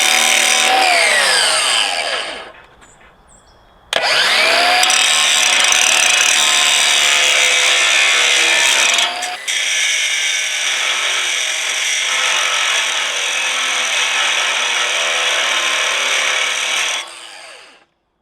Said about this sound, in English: So I got a grinder here. I'm going to try to take down some of this mass on the wrench itself.